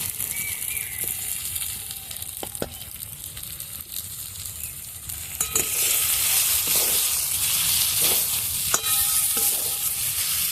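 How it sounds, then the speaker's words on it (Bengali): Fried potatoes and spices, coated with gram flour, sizzle in a pan as they are stirred, with spatula knocks and scrapes over a crackling fry that grows louder and brighter halfway through, close up and without voices. "এবার আলুর সাথে মশলাটা একটু কষিয়ে নেব"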